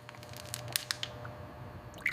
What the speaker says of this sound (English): Sucking sound of the fluid being extracted, followed by a splash.